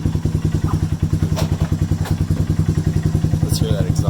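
An ATV cold-started at 39°F, its engine idling with a fast, steady, thumping exhaust pulse close by and loud, with a few faint clinks over the top.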